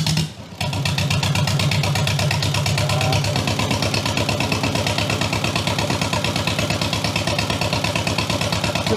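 A Jabiru aircraft engine idles at about 1,000 RPM, a loud, close, steady mechanical drone with an even rapid pulsing beat that carries on without a break after a brief dip at the start.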